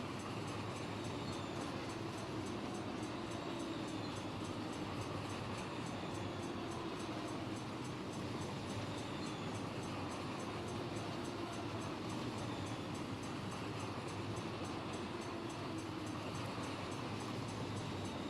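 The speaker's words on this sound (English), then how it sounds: "This is a loaded train." Simulated loaded freight train carrying orange juice rolling in Run8, a continuous quiet rumble and rail noise with no speech.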